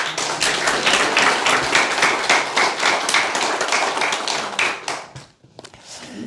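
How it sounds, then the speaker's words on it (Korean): A church congregation clapping together in steady, brisk rhythm, many hands striking at an even beat for several seconds before the claps trail off into quiet. "박수."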